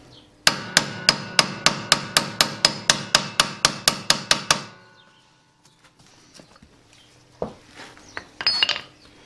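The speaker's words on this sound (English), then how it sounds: "stop you from hammering the bearing in too hard" A rapid run of about fifteen sharp metallic hammer blows in an even rhythm, driving a steering bearing into its housing on a Countax C300 mower, then a pause with a few faint knocks and clinks.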